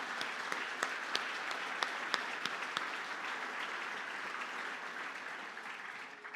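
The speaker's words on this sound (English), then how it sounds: "So huge round of applause for all of our sponsors." Applause from a conference audience for sponsors, a broad wash of many hands clapping with a few sharp nearby claps standing out, tapering off toward the end.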